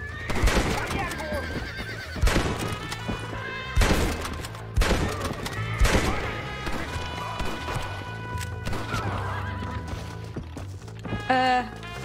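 Horse neighing and hooves galloping in the video game Red Dead Redemption, with repeated loud whinnies and clip-clop beats amid gunfire-like bangs and game sounds, with a person talking over it.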